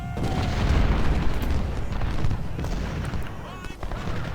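Civil War artillery cannon fire in the strategy game Ultimate General: Civil War at the Battle of Perryville, a dense rumble of overlapping booms and bursts rolling continuously, with a voice talking over the battle.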